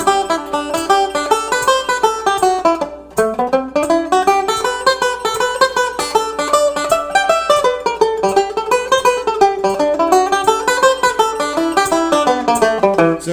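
Banjo scale played with the open-string technique, rapid plucked notes weaving up and down in flowing arcs with ringing open strings, close and continuous, one brief pause near the start.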